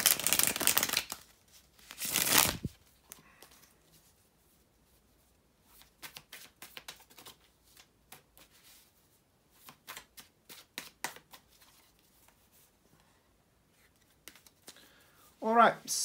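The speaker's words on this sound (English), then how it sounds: "here to shuffle the tarot cards" Tarot cards are shuffled in crisp bursts of riffling and soft slaps, with quieter flicks and handling noises scattered between.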